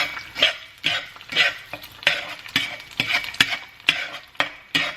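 An egg is scrambled in a hot pan with repeated scraping strokes of a utensil, a rhythmic series of close scrapes and taps over a soft sizzle.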